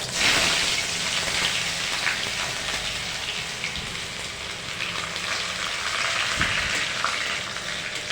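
Grated ginger hits hot oil already holding black cumin seeds and slit green chillies, giving a loud, steady close-up sizzle and crackle that runs throughout, with a few faint stirring knocks from the pan.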